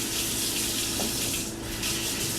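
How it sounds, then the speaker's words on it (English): Tap water runs steadily into a sink while a dish is rinsed, a constant close hiss with slight shifts as the dish moves through the stream. "So if a dish is not super dirty, I'll just give it a rinse and let it dry, maybe with super hot water."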